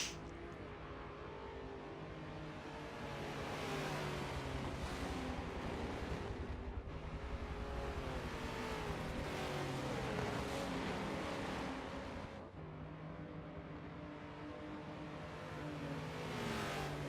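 GT race cars, including an all-wheel-drive Lamborghini, run around the Bathurst circuit in a racing video game on a warm-up lap, steady engine drones rising and falling as cars pass, loud and continuous with no voices.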